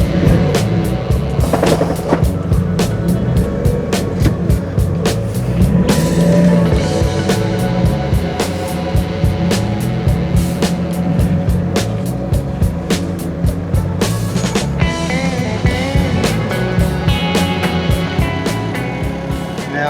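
Engine of a mini truck and an excavator working to shift an old 1960s Australian PMG telephone box, a steady loud mechanical drone with frequent sharp knocks and clanks throughout, no talking.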